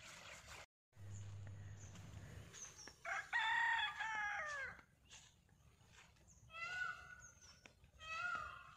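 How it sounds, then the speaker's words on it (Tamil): A rooster crows loudly several times in a rural setting, with shorter calls after the main crow, among background bird sounds and faint clucking. "இங்கே பாருங்கள், சேவல் கூவுது."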